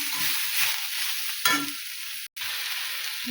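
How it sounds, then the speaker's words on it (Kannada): Peanuts, garlic, curry leaves and coriander roast in a hot pan with a constant close crackling sizzle, broken by a few scraping stirs and one brief dropout. "ಶೇಂಗಾ, ಸ್ವಲ್ಪ ಬೆಳ್ಳುಳ್ಳಿ, ಸ್ವಲ್ಪ ಕರ್ಗ, ಇದು ಕೊತ್ತಂಬರಿ ಎಲ್ಲ ಹಾಕಿ ನಾನು ಸ್ವಲ್ಪ ಚೆಂದಾಗಿ ಹುರ್ಕೊತೀನಿ."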